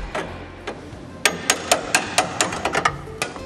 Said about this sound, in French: on finit au burin les résidus de soudure qui tiennent encore